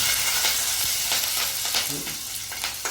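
Green chillies hitting hot oil with garlic and ginger in a frying pan, giving a loud, steady sizzle with brief stirring scrapes throughout.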